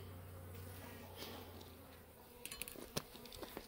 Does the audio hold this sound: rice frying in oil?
no